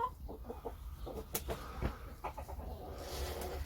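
A chicken on a village farm, with soft clucks coming in short, scattered bursts over quiet outdoor background noise.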